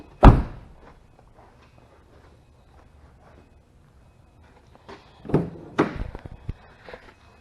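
A 2014 Subaru WRX Limited car door shuts with a sharp close thunk, followed a few seconds later by a cluster of softer clunks and rattles from the same door, all close and with no talking.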